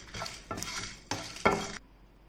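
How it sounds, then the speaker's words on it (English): Red chilies are stirred and frying in a hot pan. Sizzling comes in four scraping bursts as a spoon moves them, close and moderately loud, then fades to a quiet hiss, with no voices. "add red chilies and fry until the chilies gets crispy"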